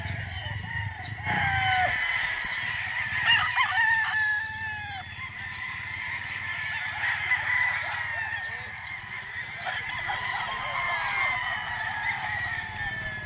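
Gamefarm roosters crow repeatedly while hens cluck in the background, a busy chorus of fowl calls at moderate distance, with someone talking faintly at times.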